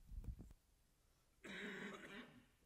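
A person with a lingering cough of several weeks gives a short burst of harsh coughs at the start, close to the microphone. After a brief pause, talking follows.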